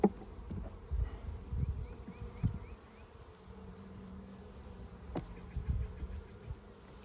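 Honey bees buzz around an open hive during a spring inspection, a close, continuous hum broken by soft thumps and handling knocks from the frames.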